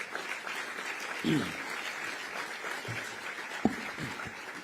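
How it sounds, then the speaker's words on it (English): A forum audience at the Michigan Chronicle's Pancakes and Politics event applauds with steady, dense clapping that fills the room, with a few louder claps standing out near the end. "Give yourselves a round of applause."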